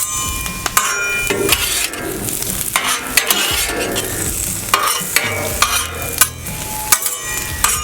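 Spicy beef teriyaki and onions sizzle steadily on a Blackstone griddle, with repeated scraping and stirring strokes of a spatula against the hot flat-top, close and continuous with no talking.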